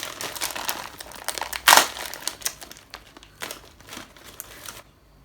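Manioc chip snack packet from Sri Lanka crinkles and crushes as someone struggles to open it, with bursts of crackling plastic, one loud rip-like crunch near the start, then scattered smaller rustles that fade to quiet.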